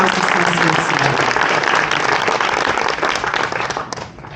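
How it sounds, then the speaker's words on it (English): A dense wash of audience applause fills an awards dinner hall, steady and loud for most of the stretch before thinning slightly toward the end. "I believe that really deserves another huge applause"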